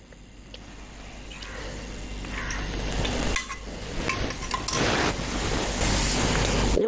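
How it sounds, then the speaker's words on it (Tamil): Oil goes into a cooking pan and starts to sizzle, a rising, hissing, crackling sound that grows louder over several seconds. "இப்போ முதல்ல வந்து நம்ம எண்ணெய் ஊற்றிக்கிறோம்."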